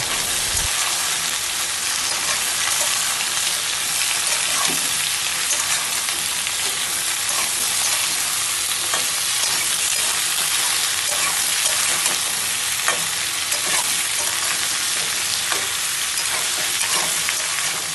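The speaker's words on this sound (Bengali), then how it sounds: "পেঁয়াজ লাল লাল করে ভাজা হয়ে গেছে, এবার দিয়ে দিচ্ছি এর মধ্যে কুমড়ো, আলু আর পুঁই শাকের ডাঁটা।" Pumpkin, potato and Malabar spinach stems fry with browned onion in a pan, giving a steady, loud sizzle with occasional stirring scrapes throughout and no talk.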